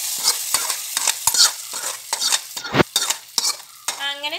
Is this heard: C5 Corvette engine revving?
no